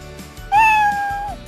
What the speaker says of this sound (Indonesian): kemudian dia akan play sound meow